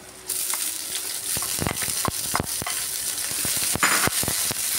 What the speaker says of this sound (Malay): kita tumis hingga layu dan naik bau ya